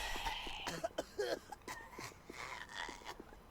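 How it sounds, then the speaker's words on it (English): Spotted hyena in a video game coughing after being gassed, a faint, drawn-out series of raspy hacking coughs and throaty wheezes in short repeated bursts. "And does a very long cough."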